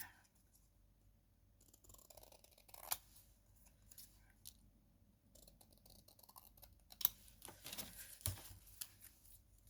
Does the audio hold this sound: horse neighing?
no